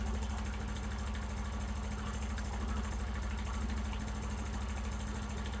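A motorcycle engine idles with a steady, even rumble while its carburetor screw is turned in quarter-turn steps. The constant, close engine drone runs alone with no talking.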